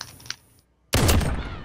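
Sniper rifle fire in Call of Duty: Modern Warfare cuts in abruptly after a short near-silence as a loud, dense blast of gunfire that fills the rest of the moment.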